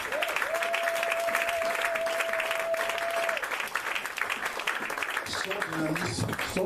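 A church congregation claps and applauds in praise of Jesus, a dense and steady wash of hands that runs loud and unbroken, with a sustained tone and scattered voices rising over it near the end.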